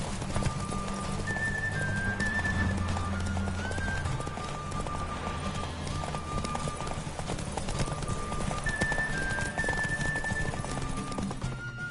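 Roach, a horse in The Witcher video game, gallops with steady clip-clop hoofbeats over a continuous bed of game music and ambience, with an occasional whinny.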